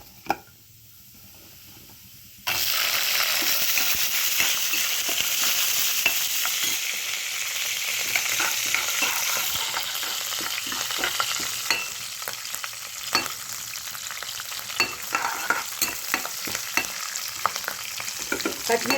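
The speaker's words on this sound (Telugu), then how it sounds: "ఇప్పుడు నేను పచ్చిమిరపకాయలు వేసేస్తానండి." Green chillies drop into hot oil in a pan, bursting into a loud, sustained sizzle after a quiet start, with crackling pops and occasional stirring scrapes as they fry.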